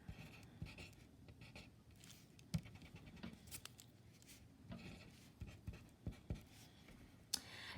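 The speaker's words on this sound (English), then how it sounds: "And then I write down P2 and V2." Faint scratching of pen on paper while gas law values are written out in a chemistry lecture on Boyle's Law, with soft irregular strokes and taps over a quiet background.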